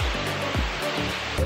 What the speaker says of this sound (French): un petit spot de canyoning avec une petite cascade bien sympathique